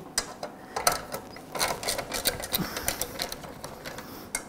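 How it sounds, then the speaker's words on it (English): A socket wrench with an 11 millimetre socket works bolts loose on a lawn mower, giving a run of light, quick ratcheting clicks at close range with faint mechanical rattles between them. "We're going to get our 11 millimeter socket, put it on here. We're going to take these bolts off."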